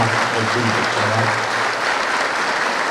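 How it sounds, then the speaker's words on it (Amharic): Long, steady applause from a seated crowd honouring the deceased at a funeral ceremony for an Ethiopian author, journalist and poet, filling the hall at a constant loud level with no talk over it. "ረጅም ጭብጨባ"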